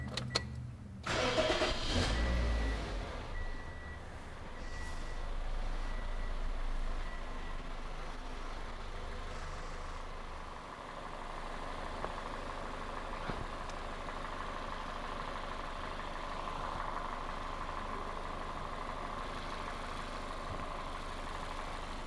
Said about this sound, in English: Now let's start the car and let it run for a few minutes.